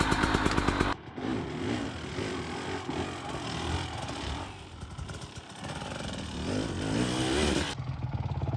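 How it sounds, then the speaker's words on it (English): A dirt bike engine drones steadily on a single track trail in Southern Utah, a buzzing, rough-edged revving that rises and falls for several seconds before cutting off near the end. "Dirt bike ride."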